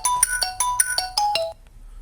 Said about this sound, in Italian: scusate il cellulare